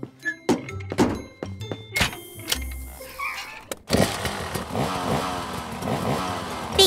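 A cartoon vehicle, Max the monster truck, thunks and clatters before its engine catches and settles into a steady, fairly loud running rumble for the rest of the span, with no talking.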